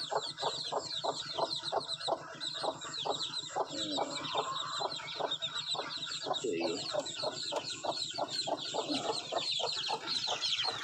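Young chickens and chicks in a nursery pen on a small farm cluck and peep continuously, many overlapping calls in quick, busy rhythm at moderate distance, with no talking.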